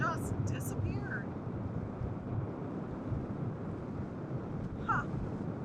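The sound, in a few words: wind outside on a boat deck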